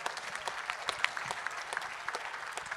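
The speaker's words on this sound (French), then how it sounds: "On l'applaudit, Elisa." A conference audience at an awards moment claps for a woman being honoured, producing a fairly soft, steady patter of many hands with a few sharper individual claps standing out and faint murmuring underneath.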